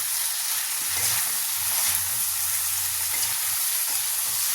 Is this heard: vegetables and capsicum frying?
yes